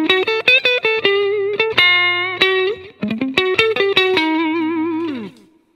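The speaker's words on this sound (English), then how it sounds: "I've just wound up the level of the slapback a little bit and also the level of the reverb, and it kind of sounded like this" Funky clean electric guitar lead through a Positive Grid Spark amp with slapback delay and reverb: quick, bright plucked notes and short chords in a syncopated run, each echoed and trailing off in a ringing tail.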